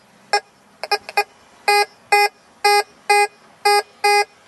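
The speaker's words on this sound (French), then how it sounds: "une grosse cible métallique, ça nous donne ça. Lift coil. Ça fait saturer le détecteur" A metal detector sounds its overload alarm over a large metal target, a lift-coil warning made of sharp electronic beeps: a few quick irregular blips, then six evenly spaced loud tones, close and clear with no talk.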